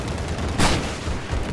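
A brief burst of gunfire aimed at an LAV in Battlefield 4, one loud crack standing out over a dense, continuous bed of battle noise.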